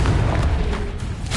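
A Confringo blasting spell explodes in Hogwarts Legacy, a loud, sustained, rumbling burst of noise that fills the whole moment without letting up.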